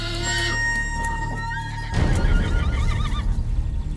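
A horse whinnies loudly and close by, a long drawn-out neigh followed by snorting and shuffling sounds.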